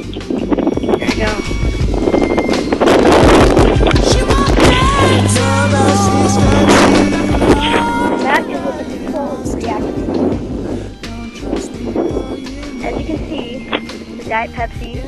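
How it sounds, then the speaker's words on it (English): Diet Pepsi violently erupts after Mentos are dropped in, a loud, sustained fizzing gush mixed with rushing wind noise, with excited voices and shouting over it throughout. "Diet Pepsi completely just violently erupted"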